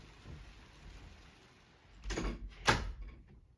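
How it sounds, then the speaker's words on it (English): A door is pulled shut indoors while rain falls outside: a soft rustling push followed by a sharp closing thump, over a faint background hiss. "Wow, I just have to close the door."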